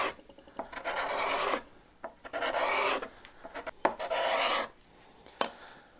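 A cabinet scraper pulls wood shavings off a board in four rasping strokes, each about a second long and close, separated by short pauses and light taps.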